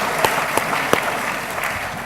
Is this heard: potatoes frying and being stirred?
no